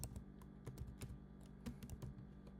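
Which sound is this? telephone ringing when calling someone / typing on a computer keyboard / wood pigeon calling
typing on a computer keyboard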